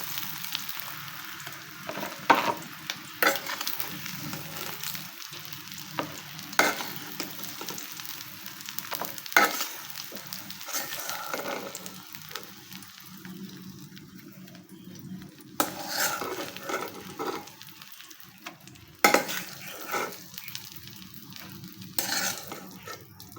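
Eggs fried in a little oil with salt and turmeric are lifted out of the pan one at a time, giving a steady soft sizzle broken by intermittent spatula scrapes and clinks against the pan. No one speaks.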